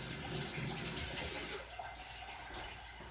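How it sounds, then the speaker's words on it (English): Water runs steadily from a tap as a paint brush is rinsed, a soft, close hiss that eases slightly partway through. "rinse your brush off"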